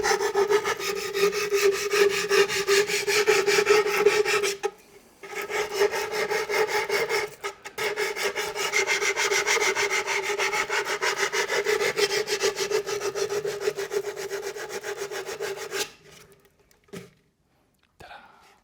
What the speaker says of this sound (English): Bit of Abranet. And smoothen these edges a little bit.